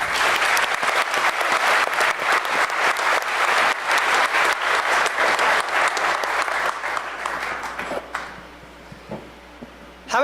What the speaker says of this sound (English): So give yourselves a round of applause for coming.